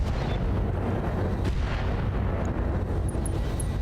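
High explosive rounds fire in the BattleTech game as a dense, rumbling barrage of booms, a low, continuous roar of artillery-like blasts heard at moderate loudness.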